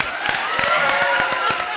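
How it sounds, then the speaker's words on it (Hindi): Hearty studio audience applause at a comedy show taping, a dense, steady wash of clapping with scattered louder claps that carries through the whole short stretch, with some crowd voices mixed in. "तो जोरदार तालियां बजाओ दिल के लिए"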